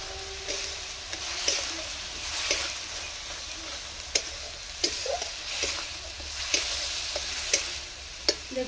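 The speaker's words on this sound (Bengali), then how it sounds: "পেঁয়াজগুলো একটু ভেজে নেব।" Onions fry in a pan with a steady soft sizzle, broken by the occasional sharp tap and scrape of a stirring utensil, close and moderately quiet.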